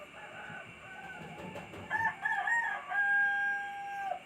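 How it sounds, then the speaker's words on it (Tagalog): A rooster crows nearby at night, two or three drawn-out cock-a-doodle-doo calls rising over faint background noise and a low murmur, the last crow long and clear. "may tumunog pa na manok"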